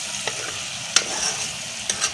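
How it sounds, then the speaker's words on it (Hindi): Onions and okra frying in a pan as they are stirred, a steady crackling sizzle with three or four brief scraping clicks from the spoon, close by and without speech. "प्याज को भूनने में अभी 10 मिनट बाकी हैं।"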